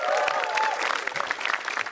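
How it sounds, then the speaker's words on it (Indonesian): A studio audience at a televised stand-up comedy battle applauds comedian Krisna Hareva, a brief burst of dense clapping mixed with crowd cheering and a faint voice over it. "Tepuk tangan dong untuk Krisna Hareva"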